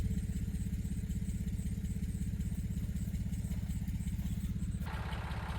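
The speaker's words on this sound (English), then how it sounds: "I'm going to hook the chain up to it with the backhoe and go backwards" A backhoe engine idles at a steady, close rumble with a light mechanical rattle, running alone without talk, working on a ranch.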